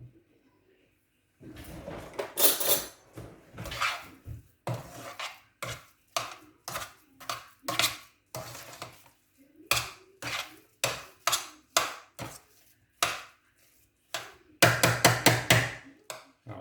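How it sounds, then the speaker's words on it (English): Mashed potato being stirred with butter, salt and pepper for a cheese and tattie pie, heard as a steady run of scraping, tapping utensil strokes against a pot or bowl, rhythmic and close, with no talking. "I'm going to give that a stir just to make sure the butter and salt and pepper is thoroughly mixed evenly"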